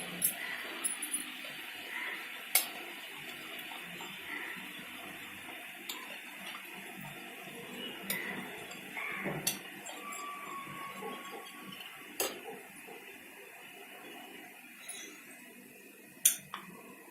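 A spoon clinking against a bowl while yogurt is mixed, faint irregular ticks and taps over a soft background hiss, fairly distant and quiet.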